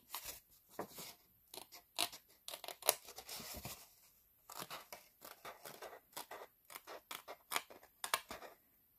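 Scissors cutting out paper leaf shapes for a spring card, a close series of crisp snipping and crunching cuts in irregular bursts, with brief pauses between runs, no talking.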